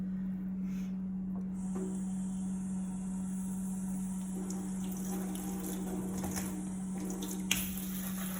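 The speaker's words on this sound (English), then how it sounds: "then we're going to rinse our lemons" Fresh lemons are rinsed under a running kitchen tap, giving a steady, close hiss of flowing water with occasional brief splashes and clatters.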